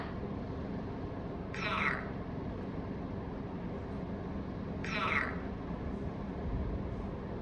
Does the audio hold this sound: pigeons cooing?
no